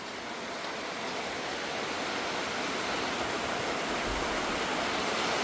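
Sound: rain falling at a rice-field hut

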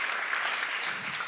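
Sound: audience applause for a speaker at a conference

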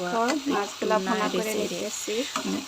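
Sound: rohu fish frying in a pan

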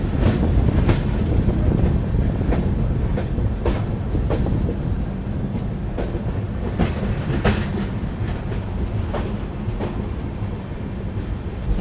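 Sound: train departing station, wheels on rails

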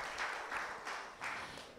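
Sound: audience applause

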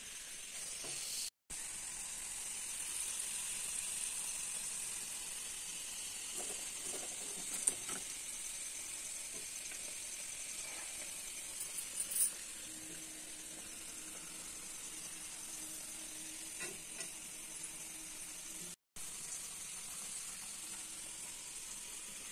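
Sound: frying prasad in a pan

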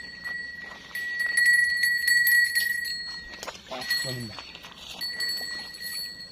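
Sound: fishing rod bite bell ringing

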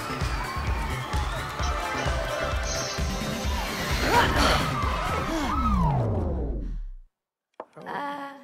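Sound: crowd cheering in the video game It Takes Two

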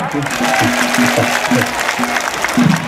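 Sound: audience applause at the fire boat festival opening

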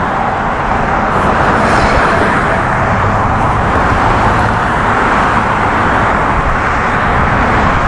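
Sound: highway traffic passing

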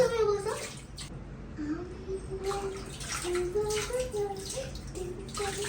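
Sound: child splashing water while bathing in the bathroom

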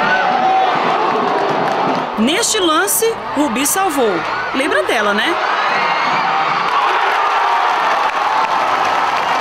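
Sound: football crowd cheering at stadium

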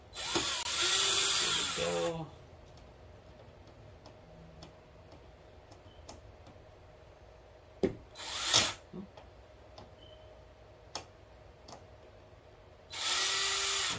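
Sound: power drill removing screws

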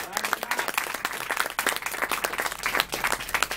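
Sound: applause

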